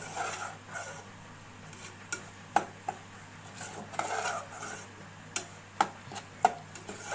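Semolina (suji) roasting for halwa in a pan, with soft scraping as it is stirred and occasional sharp knocks of the spoon against the metal, close up under a faint steady hum, no talking.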